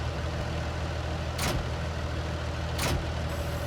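Tractor engine running steadily in the Farming Simulator 19 video game, a continuous low drone with two brief sharp transients over it, no talking.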